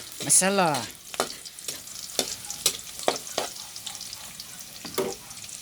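Ingredients with masala and ginger are stirred as they fry in a pan, a soft sizzle under repeated sharp utensil scrapes and taps, opening with a brief whistling sweep.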